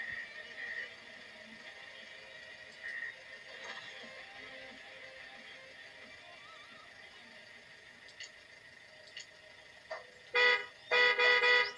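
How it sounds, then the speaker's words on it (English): Near the end, a few loud, bright electronic horn honks in quick bursts from a vehicle in the video game MudRunner, following a long stretch of quiet, tonal game background sounds. "that honks the horn"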